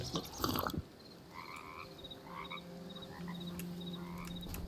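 Frog in the video game Hytale, croaking in a series of short repeated calls over a quiet ambient background, close and fairly clear, with a brief louder rustle at the start and no voices.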